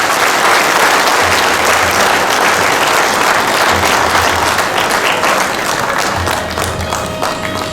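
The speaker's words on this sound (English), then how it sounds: "I request a big clap from this audience" A large audience at an inauguration ceremony for an international self-help group convention breaks into sustained applause, dense clapping that stays loud and steady before tapering slightly toward the end.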